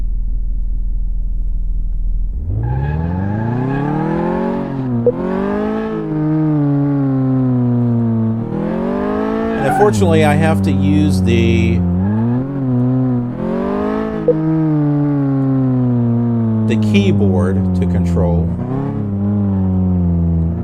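A car engine in Car Mechanic Simulator 2018 revs up and down repeatedly on the test track, with rising and falling harmonic whine and rumble, loud and steady throughout, while someone talks over it.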